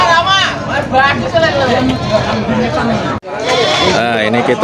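Javanese goats bleat repeatedly at a busy livestock market, their wavering cries close and loud over the crowd's babble while someone talks throughout.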